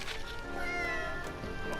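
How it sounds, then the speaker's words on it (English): A cat cries in the video game Gravity Rush 2, a drawn-out, wavering meow heard close and clear. "I heard a cat cry."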